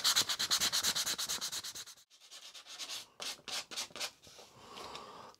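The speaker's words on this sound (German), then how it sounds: "Ich schleife das jetzt mal ab und komme dann gleich wieder zu euch." Brisk back-and-forth sanding strokes rasp against a black padauk wooden handle of an Opinel No. 08 knife, rapid and even at first, then slower, spaced rubs after a short pause, close and clear.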